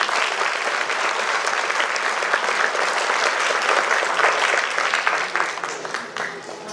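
A large audience claps loudly and steadily for the speaker at Shehnai India Night 2018, an Indian Students Association event at UGA. The applause is sustained and dense, then tapers off near the end.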